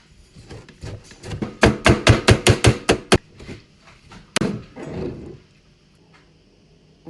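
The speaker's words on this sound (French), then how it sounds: "Découpe tomate là." A knife chops tomatoes and meat on a board in a quick run of about a dozen sharp, close thuds, followed by a few scattered knocks and a short scrape.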